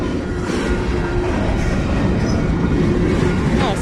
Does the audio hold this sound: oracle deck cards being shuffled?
no